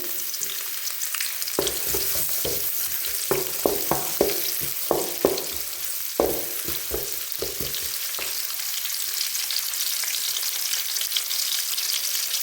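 Onions frying in oil for mutton sambar, a steady bright sizzle broken by a run of sharp scraping stirs in the pan, then sizzling on its own.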